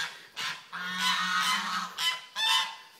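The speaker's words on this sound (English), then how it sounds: "The geese making noise." Geese honk repeatedly nearby on a pasture on a misty morning, a few loud nasal calls in quick bursts with short pauses between them.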